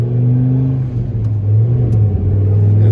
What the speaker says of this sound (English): just drive it nice and smooth and listen to that V10